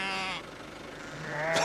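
Sheep on a Scottish farm bleat at feeding time during lambing season, one long bleat and then another starting near the end, close and clear.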